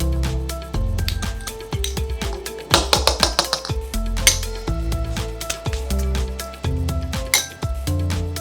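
A spoon stirs and clinks against a bowl while milk powder is mixed into a homemade okra de-tan face pack, rapid uneven scraping taps close up and with no talk.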